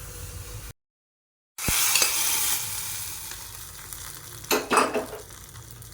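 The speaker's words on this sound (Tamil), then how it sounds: "இப்போ அதை வந்து தாளிப்பை அப்படியே நம்ம சட்னியில் கொட்டிடலாம்" A hot tempering of shallots and curry leaves is poured into chutney, setting off a loud, crackling sizzle after a brief silence, with a few utensil clinks as it is stirred in.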